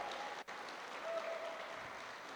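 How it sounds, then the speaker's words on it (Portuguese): A church congregation at a Methodist Sunday school applauding, a steady wash of many hands clapping at a distance, soft and continuous with one brief dip. "Vamos aplaudir a irmã Áurea"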